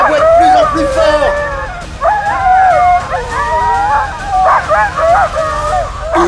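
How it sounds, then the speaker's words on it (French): A pack of sled dogs waiting before a race barks, yips and whines together, loud and close, a dense overlapping chorus with rising and falling howl-like tones that carries on without a break. "les premiers chiens qui aboient, ça agace les autres, alors ils aboient aussi"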